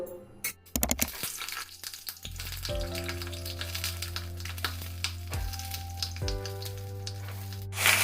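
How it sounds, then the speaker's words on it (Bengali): Pointed gourd pieces drop into hot mustard oil in a wok, starting a loud, close sizzle that crackles and spits steadily, with a few clanks and stirring knocks of a utensil against the pan. "কড়াতে এবার আমি খানিকটা সর্ষের তেল দেব দিয়ে পটলগুলোকে ভেজে নেব তেল আমার গরম হয়ে গিয়েছে দিয়ে নেব পটলগুলো"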